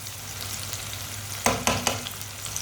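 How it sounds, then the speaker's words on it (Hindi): Onions roasting in a pan for masala bhindi: a steady close sizzle and crackle, with three quick scraping stirs of a spoon across the pan near the end. "प्याज को थोड़ा सा रोस्ट करना, ज़्यादा नहीं करना"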